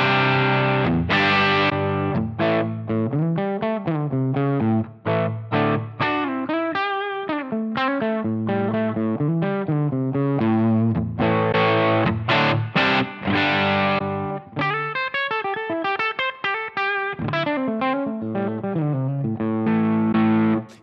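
Overdriven electric guitar through a Line 6 Helix/HX Stomp plays a continuous run of notes and chords, its gritty tone shifting slightly in brightness partway through as the input impedance setting is switched, dropping some high end.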